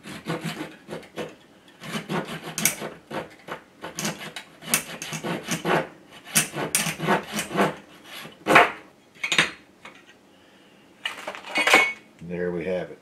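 Styrene plastic sheet for a USS New Jersey model ship being cut by hand, repeated close scraping and rasping strokes in uneven bursts, loud and rhythmic, then a few slower final passes.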